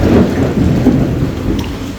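A heavy downpour floods a house, with loud, dense rain and a deep rumble of thunder rolling underneath throughout, close and continuous with no talking.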